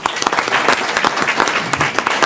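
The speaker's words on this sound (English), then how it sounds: "Let's give them another big round of applause." Loud, close applause at a school board meeting recognizing students and staff, many hands clapping in a dense, steady burst with sharp individual claps standing out.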